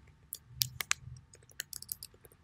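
Fingers tap on a computer keyboard while coding an HTML form, a quiet, irregular run of close, crisp key clicks with short pauses between bursts.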